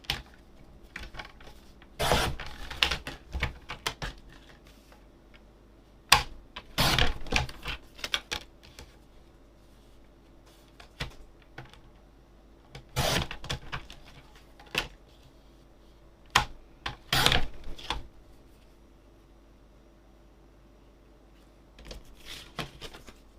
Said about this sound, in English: let's cut the best piece of this gold out